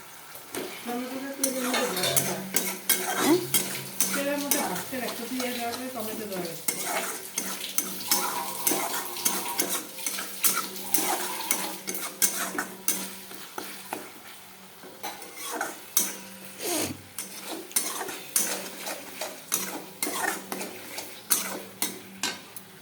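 A spoon stirs and scrapes a masala of tomato and a splash of water in a pan for a spicy boal fish curry. Rhythmic metallic clanks and scraping run over a soft sizzle, and a voice briefly talks near the start.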